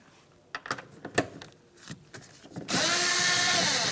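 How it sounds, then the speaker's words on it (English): Power tool with an 11mm socket loosening the mirror mounting nuts on a 2002-2005 Ford Explorer door, a few short clicks and bursts before a steady, loud close-up whirring run. "To remove them, we're going to use an 11mm socket."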